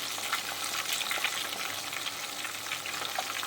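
Parrot fish fries in oil in a wide pan, a dense, continuous crackling sizzle heard up close and alone, steady from start to finish.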